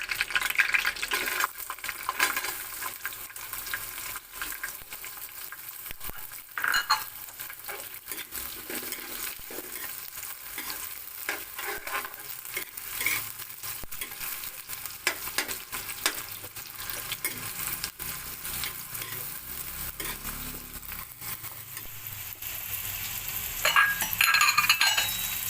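Onion frying in a pan for prawn pulao, a soft continuous sizzle with scraping stirs and occasional light clinks of a utensil against the pan, brightening near the end.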